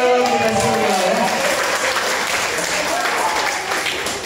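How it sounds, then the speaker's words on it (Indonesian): An audience claps together at a Catholic gathering, a steady close burst of applause that runs the full few seconds with a faint voice underneath. "Tepuk tangan kita semua ya"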